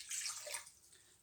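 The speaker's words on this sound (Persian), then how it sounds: "اول آب را در داخل ظرف میریزیم." Water poured into a container while making jalebi, a brief steady splashing rush that fades out, with no voices.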